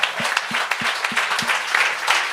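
A comedy show audience applauds the comedians, giving dense, steady clapping with a few louder individual claps standing out in a regular rhythm throughout.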